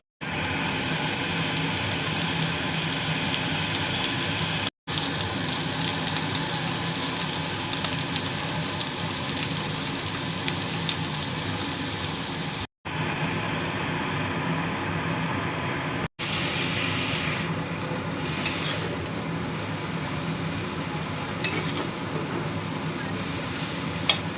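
Potatoes and other ingredients stirred and fried in oil in a wok, a steady close sizzle with scraping stir strokes running throughout, broken by a few brief cuts in the sound.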